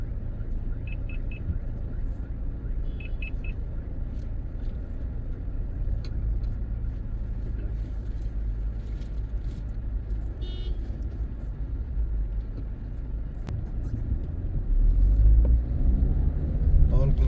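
A car backs up slowly on a badly broken road near a toll plaza on the way to Rishikesh, giving a steady low engine rumble and road noise throughout, a little louder toward the end, with people talking over it.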